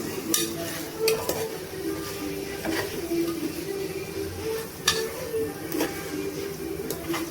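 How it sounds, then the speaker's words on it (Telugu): Eggs are gently stirred into a pot of egg dum biryani, with a steady low sizzle under scattered scrapes and taps of a spoon against the vessel, close up and without talk. "ఎగ్స్ వేసి ఒక్కసారి మాత్రమే కలపాలి, ఇంకెక్కువ కలపకూడదు."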